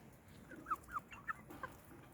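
A young Hint rooster chick, from fighting-breed parent stock, gives four short, soft clucks in a quick, uneven series. The calls are faint and come over a low background hum with no talking.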